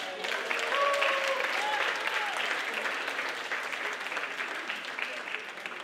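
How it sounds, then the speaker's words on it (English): An audience at a Baptist youth conference in a Halifax church breaks into sustained applause, a dense, steady clapping that swells early and holds for several seconds with a few voices rising through it. "Can we all save our applause until the end?"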